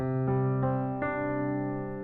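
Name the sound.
piano playing broken major ninth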